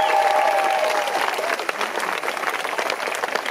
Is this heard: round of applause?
yes